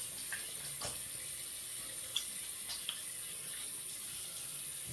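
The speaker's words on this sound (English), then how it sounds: "Rinse off here." A tap runs steadily into a sink while a double-edge safety razor is rinsed, a soft continuous splash with a couple of faint clinks; no talking.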